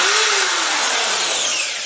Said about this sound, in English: A drill for drilling.